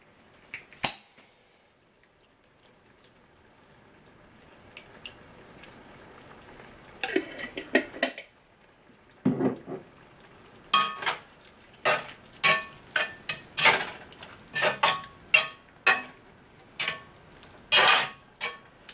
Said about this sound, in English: Continue to mix and brown the ingredients together.